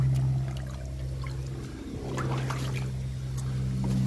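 Water pours out of a drained shrimp tank in a steady, rushing flow over a low constant hum, continuous and fairly close for the whole stretch with no talking.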